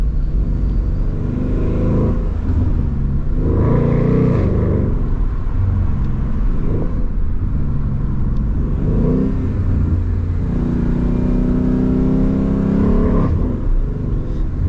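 A Ford Mustang GT 5.0 Premium on a mountain road in Mexico accelerates hard through gears, a loud, close in-cabin engine drone rising in pitch with each run and dropping at every shift, several shifts in a row.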